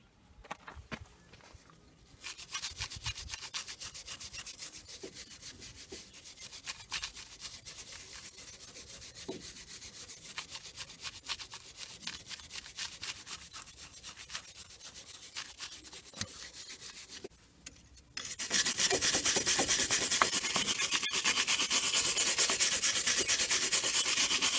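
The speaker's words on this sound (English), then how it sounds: "Now what this needs is really a good scrub, so I'm going to do that just now." Rough, steady scrubbing of a rusty Ford Focus MK2 front brake disc held on its axle carrier, continuous brushing strokes close by for most of the stretch, turning brighter and harsher near the end, with no talk.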